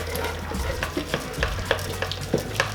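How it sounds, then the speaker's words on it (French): Harosset mixture, Egyptian style, worked through a hand-cranked food mill (moulinette), giving steady rhythmic scraping and clicking turns, close and moderately loud, with no talking. "là on va passer toute la texture donc à la moulinette"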